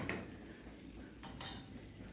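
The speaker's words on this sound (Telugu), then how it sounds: "ఇదిగోండి బెండకాయలు వేసేస్తున్నాను ఇందులో" Okra going into a cooking pot for a drumstick and okra curry, heard as a brief metallic clatter of a utensil against the pot, with a couple of sharp clinks near the end, close and fairly quiet.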